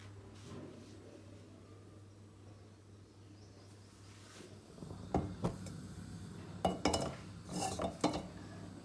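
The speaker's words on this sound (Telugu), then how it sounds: "స్టవ్ మీద బాండ్లీ పెట్టాను." A wok is set down on a stove while making South Indian tomato bath upma: a quiet room hum first, then a few metallic clanks and clinks of the pan settling near the end.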